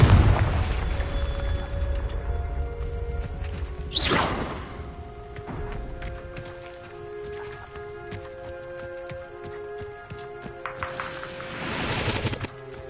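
A Confringo fire spell cast in the Hogwarts Legacy video game gives a sharp swoosh and fiery burst near the start, then a second blast later, over busy game combat noise and music.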